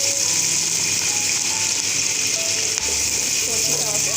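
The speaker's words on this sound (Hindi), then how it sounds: "अब हमने पैन में ऑयल डाल दिया गर्म होने के लिए। अब हम इसमें डालेंगे प्याज" Onions frying in hot oil in a pan give a steady, loud sizzle that carries on evenly throughout, with faint tonal sounds in the background.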